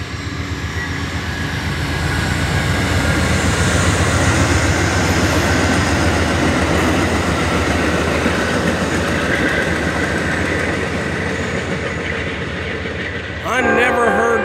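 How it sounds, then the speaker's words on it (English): An Amtrak passenger train rumbles past steadily and loud for most of the stretch, its horn sounding near the end, with a voice briefly audible over the rolling wagons. "this horn doesn't sound the same. I wonder if this is Amtrak."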